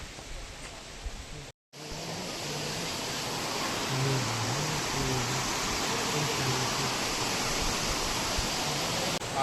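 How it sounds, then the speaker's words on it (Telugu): Water rushes steadily at Akasha Ganga, the stream and falls at Tirumala, as a loud, continuous broadband roar that cuts out for a moment near the start and then carries on unbroken. "ఆకాశగంగ అనేది ఇక్కడ వాటర్ వెళ్తున్నాయి"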